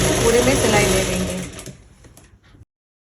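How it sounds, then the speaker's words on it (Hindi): Electric sewing machine running a continuous stitch along a one-inch margin on a plazo, loud and steady, then slowing and stopping partway through, followed by brief fabric handling and quiet. "इस तरह से हमने जो 1 इंच का जो मार्जिन छोड़ा था तो वहाँ 1 इंच में हम इस तरह से पूरे में सिलाई ले लेंगे।"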